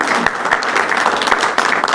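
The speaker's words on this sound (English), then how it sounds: "I'd like at this time to give both Sheriff High and our state's attorney a round of applause for their great work." Audience applause at a county government press event on violent crime reduction, a brisk, steady stretch of clapping from a room of people, fairly loud and continuous.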